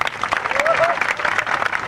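An audience at a Thakor community gathering claps loudly and continuously, with a brief whistle-like tone rising partway through.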